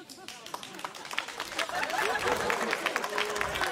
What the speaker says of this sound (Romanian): S-a aplaudat mai devreme decât credeam